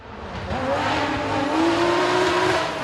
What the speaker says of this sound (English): Justin Birchall opened his account in determined style, always very spectacular to watch, pushing his Peugeot 206 right to the limits